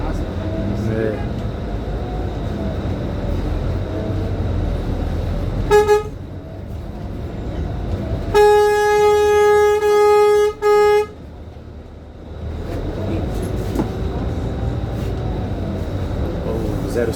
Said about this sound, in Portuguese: Peguei uma buzinaça.